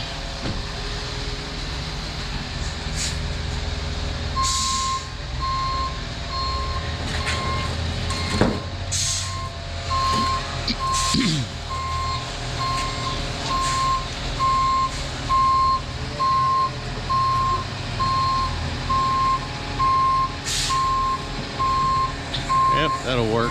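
A cement truck reverses up a driveway, its backup alarm beeping in a steady, evenly spaced series over a rumbling diesel engine, with occasional air-brake hisses.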